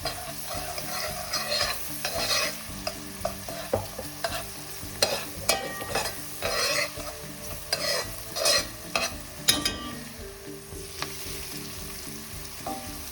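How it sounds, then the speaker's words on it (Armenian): Chickpea soup with tomato is stirred in a pot, with a soft continuous sizzle broken by repeated scraping and clinking strokes of the spoon at an uneven rhythm, close and moderately loud, with no talk. "Խառնում ենք, ավելացնում ենք նաև մի փոքր տոմատ, նորից խառնում ենք"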